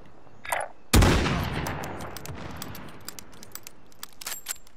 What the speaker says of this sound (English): Nah, it's an assault rifle.